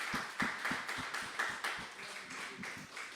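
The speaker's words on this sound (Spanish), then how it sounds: "¿Cuánto le da un aplauso al Señor?" Rapid, steady claps from a church class congregation applauding the Lord, faint and reverberant, continuing without pause for a few seconds with no voices over them.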